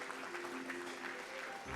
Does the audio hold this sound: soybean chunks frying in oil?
no